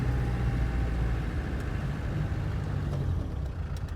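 A 1995 Land Rover Defender 130 diesel accelerates with its turbo spooling, heard as a low, steady engine drone with a faint rising whine above it, close and constant without speech.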